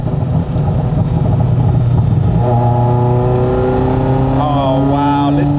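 Ferrari F40 engine accelerating in second gear toward 6,000 RPM, its pitch climbing in a steady sweep, loud and close from inside the car, ending with a quick upward flick.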